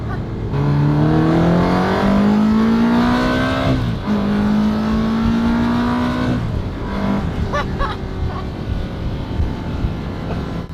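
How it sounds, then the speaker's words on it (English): A Ferrari 360 Spider roars loudly and rises in pitch as it drives past, then the revving tone fades while it carries on. "Let's let Vivelda hear that we're driving by."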